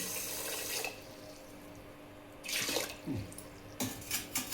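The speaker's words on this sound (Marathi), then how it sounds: "आता त्याच्यात साखर डुबेल एवढंच पाणी टाकायचं आहे" Water poured into a pan of about three quarters of a kilo of sugar for gulab jamun syrup, coming in a few short splashing bursts with quiet gaps between them, close by and moderately loud.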